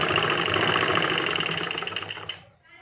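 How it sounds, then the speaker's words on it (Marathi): A sewing machine runs a press seam along lined fabric, a steady close whirring stitch for a few seconds before it slows and stops. "मग याच्यावरून एक प्रेस शिलाई घालून घ्यायची."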